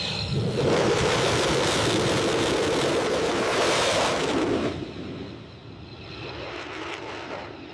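A US B-2 Spirit stealth bomber roars loud and close on a full-power takeoff, a sustained broadband engine rumble that drops off sharply after about five seconds to a softer, fading wash.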